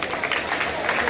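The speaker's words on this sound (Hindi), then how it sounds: "जोरदार तालियां।" An audience claps together at a staged Jain play, a dense steady patter of many hands filling the whole moment at even loudness.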